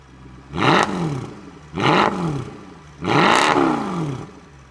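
A Mercedes-AMG C63 of the W204 generation, a V8 with its catalytic converters deleted, revs hard through its exhaust in three loud, close bursts, each rising to a bellowing roar and falling away, with no talking.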